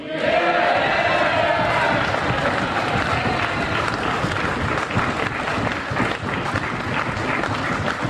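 Applause and cheering from a debating audience at the Glasgow University Union during a Scottish independence debate, a dense, loud wash of clapping with crowd noise and scattered voices that holds steady throughout.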